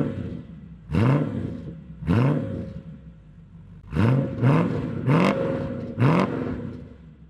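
A vintage car with a custom dual-tip exhaust runs close by, idling under a steady low rumble and then revved in about six short, rising throttle blips, with no talking.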